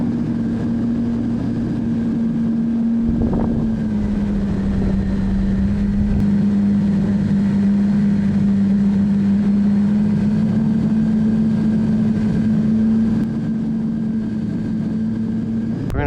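Remote-control model airplane engine at an RC club field, a loud sustained droning whine holding a steady pitch as the plane passes along the runway, with no talking.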